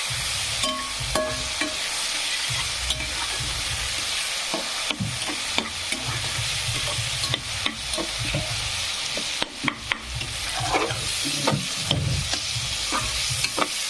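Onion, garlic and ginger fry in a pan for a cluster-bean dish, a loud continuous sizzle close by, punctuated by frequent scraping stirs and a few clanks of the spoon.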